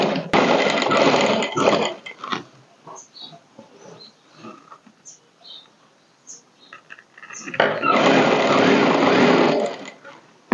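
A sewing machine stitches a folded strip on a princess-cut blouse in two loud sustained runs at the start and end, with quiet handling and occasional talk in the pause between.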